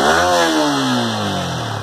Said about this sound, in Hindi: मैं आप लोगों को इसका एग्जॉस्ट नोट सुना देता हूँ।